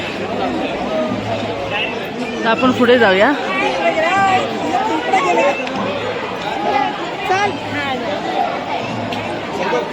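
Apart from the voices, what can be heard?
crowd chatter at Khandoba temple, Jejuri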